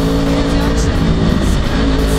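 A 2011 Yamaha R1 sport motorcycle cruises in standard riding mode, its engine droning loud and close with a steady tone and heavy wind noise, without clear talk.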